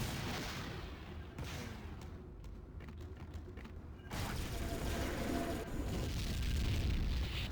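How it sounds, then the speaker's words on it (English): Mortar rounds in the online shooter Tribes 2 during a base match, thumping and booming at moderate distance amid mechanical rattles and a dense, rumbling battlefield wash that grows louder partway through. "Mortars again being spammed in"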